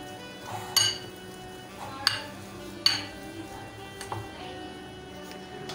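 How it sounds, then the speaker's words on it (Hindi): Boiled potatoes mashed in a bowl for a samosa filling, heard as a few sharp, separate clinks of a utensil against the bowl. Quieter scraping fills the gaps, with no talking. "सबसे पहले हम पोटैटोस को मैश करेंगे।"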